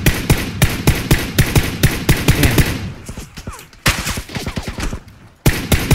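Gunfire in the PUBG video game: rapid bursts of loud, sharp shots in quick succession, pausing briefly and then resuming with more volleys, close and dominant with no voices.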